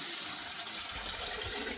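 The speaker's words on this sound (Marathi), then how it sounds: "पाणी ओतून बघ त्याच्यात." Water poured steadily into a homemade water filter, giving a continuous close rushing splash with no pauses over the whole moment.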